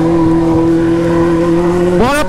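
A carbureted Honda Hornet motorcycle, just refueled after running dry, holds a steady loud idle close by, then revs sharply upward near the end, with voices talking over it.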